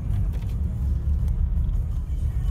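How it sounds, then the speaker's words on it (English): A Land Rover Discovery 3 weighing about 2.5 tons rolls over gravel, a heavy, steady low rumble of tyres and engine heard from inside, continuous and fairly loud with no talk. "Now we are on gravel here."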